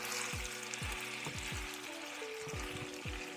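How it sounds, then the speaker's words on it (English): Garlic, olive oil and red pepper flakes sizzling in a hot skillet on a very hot burner, a quiet steady crackle broken by light rhythmic scraping or stirring strokes. "You can see it's still sizzling because the burner is very hot."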